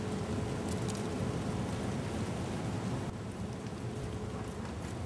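Heavy wind buffets a poncho tarp tent at close range, a loud, steady roaring rush with gusty swells and faint flapping against the fabric, and no voices.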